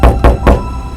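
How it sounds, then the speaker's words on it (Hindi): Three loud, heavy knocks on a door land in an even, quick rhythm, close and booming, with nothing else heard around them, in a late-night horror story. "इस बार दरवाजा नेहुल खटखटाता है, आत्मा रूप में।"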